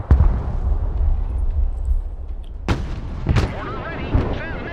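Mortar rounds fire with deep booming thumps in the Broken Arrow war game, one heavy launch followed by another pair of sharp blasts over a low rumbling battlefield backdrop.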